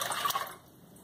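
Water poured into a cooking pot holding piloncillo, a broadband splashing pour that is loudest in the first half second and then trails off into a quieter trickle, with no talking.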